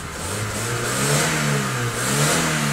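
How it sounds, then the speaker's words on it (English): The engine of a high-mileage VW Golf revs in a garage, climbing and dipping twice, close and fairly loud, with no talk. "engine sounds okay. It's not knocking or horrible"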